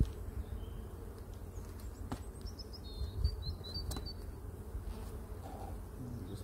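Honey bees buzz steadily at a beehive, a dense continuous drone of many insects close by, with a few individual bees passing louder near the ear and no voices.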